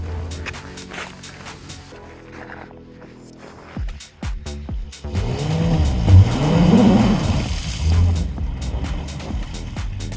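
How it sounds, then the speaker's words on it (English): A 2022 RAM 1500 truck climbs a slippery hill, its engine rising and revving as the tires scrabble and squeal in bursts. Quiet footsteps and handling noises come before the louder climb. "The truck was able to stay at the base and get the front tires up and just climb over without too much issue."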